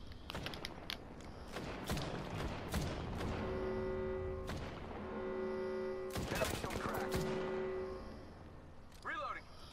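Gunfire in Apex Legends, with rapid bursts of shots early on, then a sustained humming tone and more shots and impacts, with a voice speaking faintly near the end.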